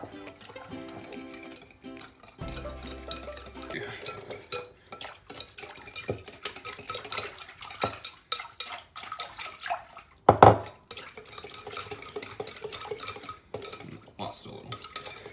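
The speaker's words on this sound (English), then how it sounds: "This is where you'll take your whisk. You'll really wanna mix that all in together." A whisk stirs tomato sauce in a cooking pot, scraping and clinking against the metal sides in an irregular rhythm, close and moderately loud, with one sharper clank partway through and no talking.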